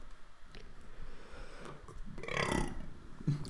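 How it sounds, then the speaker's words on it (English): A man's low, rumbling belch rises near the end, close and fairly loud, over crowd and broadcast background noise from an NRL Grand Final rugby league telecast between Cronulla and Melbourne. "that was my belch"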